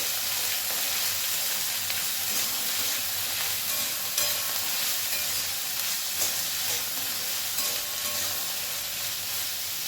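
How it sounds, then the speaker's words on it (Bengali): Chopped ash gourd stir-fries in a pan over a high gas flame, giving a steady, loud sizzle and hiss with occasional stirring scrapes, close up and without any talking. "এখন আমি এর মধ্যে দিয়ে দেবো কেটে রাখা চাল কুমড়ো গ্যাসের ফ্লেমটা হাইতে রেখে চাল কুমড়োটা বেশ কয়েক সেকেন্ড একটু নাড়াচাড়া করে নেব"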